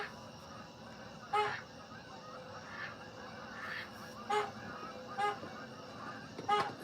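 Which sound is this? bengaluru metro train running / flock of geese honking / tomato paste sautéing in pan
flock of geese honking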